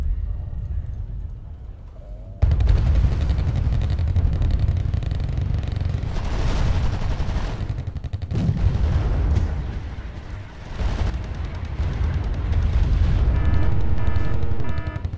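Heavy gunfire and artillery in the video game Wargame AirLand Battle, with a dense loud barrage of booms and rapid shots, an abrupt start, and rocket pod fire, continuous and close.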